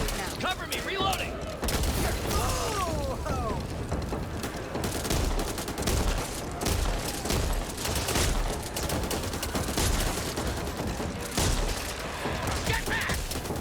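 Sustained gunfire from the co-op zombie shooter Back 4 Blood, with repeated sharp shots and bursts throughout amid chaotic combat noise, while players talk over the action.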